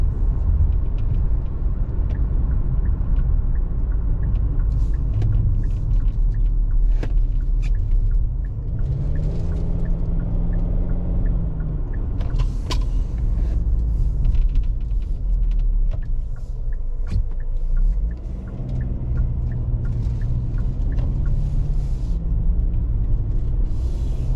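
A 2024 Kia Sportage LX AWD cruising down a road, heard as a loud, steady low rumble of engine and tire noise from inside the cabin, with no talking.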